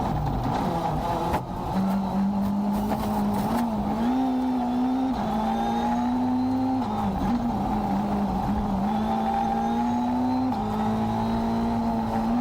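A rally car engine roars loud and close from inside the cabin, holding a strained drone that steps up in pitch through repeated gear changes with brief dips as it slows.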